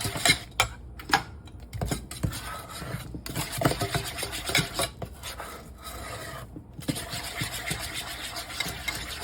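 Steady rasping scrape of a spoon working vanilla into lace cookie batter in a bowl, continuous close rubbing strokes with small clicks, with no one speaking.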